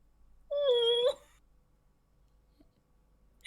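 A person imitates a cat with one short, tonal meow-like call, close and clear, followed by near silence.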